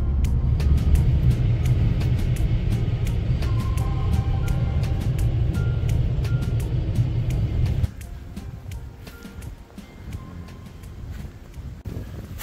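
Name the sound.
car driving at 35 to 40 miles an hour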